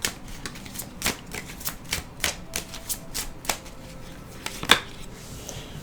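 Tarot and oracle cards are shuffled by hand in a quiet room, making a series of sharp riffling slaps and flicks at an uneven pace, close and crisp with no talk.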